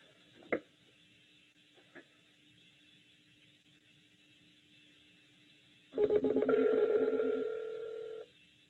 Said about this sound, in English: I'm going to call my desk phone.